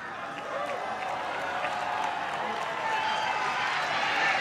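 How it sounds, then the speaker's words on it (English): Esports crowd at a CS:GO semi-final event applauding and cheering for the teams, a broad sustained roar of clapping that builds slightly, with a voice talking over it. "please make some noise for these fantastic teams"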